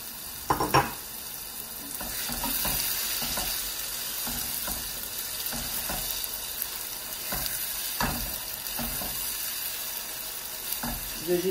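Tuna stew with tomato paste frying and being stirred in a pot: a steady sizzle runs throughout, broken by repeated scraping strokes of the spoon, fairly close, with no talking.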